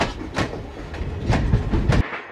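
A train running through a railway station, its rolling wheels and rhythmic clatter filling the scene with a steady, fairly loud rumble and a few sharper bursts; no one speaks.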